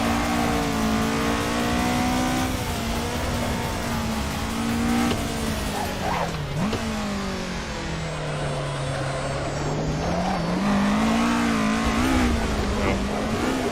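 A drifting car in the racing game Assetto Corsa sounds its engine loudly and continuously, holding high revs with rises and dips in pitch as the throttle is worked through the slide, with faint hints of tire squeal.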